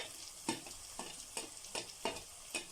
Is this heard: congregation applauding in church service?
no